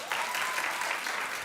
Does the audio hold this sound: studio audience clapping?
yes